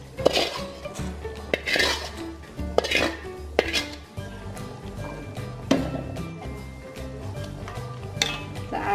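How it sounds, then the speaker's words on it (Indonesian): A beef soup with sautéed spices being stirred in a pot, with repeated clinks and scrapes of a utensil against the metal rim over a steady background, fairly close and loud. "Kita aduk."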